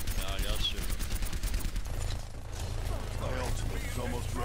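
Gunfire in the Overwatch game on the Numbani map, rapid shots and bursts under excited player talk, mid-level and busy with other game effects.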